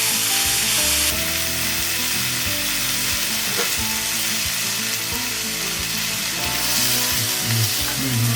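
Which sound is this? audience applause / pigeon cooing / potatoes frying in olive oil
potatoes frying in olive oil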